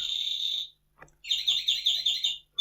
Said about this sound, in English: That's the bird clock, striking 7 o'clock at night.